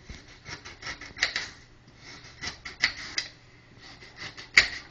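A knife cuts through a big, hard carrot, giving a quiet series of crisp taps and crunches in an uneven rhythm, with a few sharper chops standing out.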